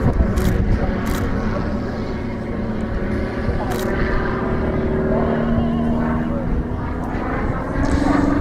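Bücker Bü 133 Jungmeister biplane flying at an airshow at Margny-lès-Compiègne, its engine drone steady and fairly loud throughout, with a faint rising tone, crowd ambience and scattered noise underneath.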